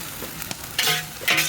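Soya chunks fry in a pan with a soft sizzle broken by a few scraping stirs and two brief louder bursts of crackle, near and without talk.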